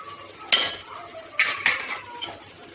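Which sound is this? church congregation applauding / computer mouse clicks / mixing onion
mixing onion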